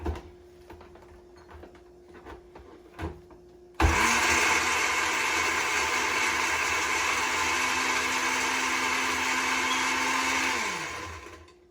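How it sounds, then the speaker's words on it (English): A kitchen blender whirs loudly for about eight seconds as it purees ingredients for Nigerian Ofe Owerri soup, starting abruptly with a steady high roar before the motor winds down at the end, after a quiet stretch of light clatter. "I will blend it together."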